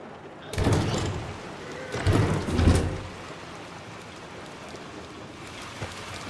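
Rain outdoors in the video game Little Nightmares II, a steady hiss throughout with louder rushing swells of downpour or gusts near the start and again around the two-to-three-second mark, then settling back.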